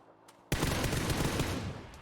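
Gunfire in a battle royale video game breaks in abruptly as a loud, sustained burst of rapid automatic shots after a brief quiet moment, close and dense, with no talking.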